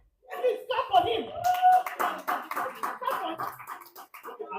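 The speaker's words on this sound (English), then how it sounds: "please clap for him." Audience clapping at a PWAN Sterling event, a mix of scattered hand claps and loose applause running for a few seconds, with people talking over it throughout.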